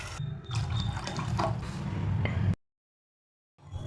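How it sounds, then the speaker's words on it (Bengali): Water rinsed from a blender jar is poured into the fried spice paste for a bhetki fish tel jhal curry, a close gushing splash that stops abruptly and falls silent before faint sound resumes. "এরপর জল অ্যাড করব।"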